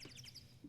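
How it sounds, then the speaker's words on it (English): Short run of quick, high bird chirps from the Ace Attorney video game, a few rapid tweets close and clear, with no talking. "Oh, the bird sound."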